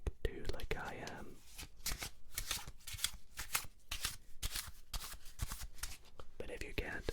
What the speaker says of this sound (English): If you can shuffle a deck, that's an added bonus, because you can do that at the start of the trick too, like I am.